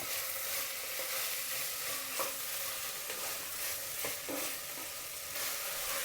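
Rice roasting in a hot tempering for akki uppittu, a steady close sizzle with scraping stir strokes throughout and no talking.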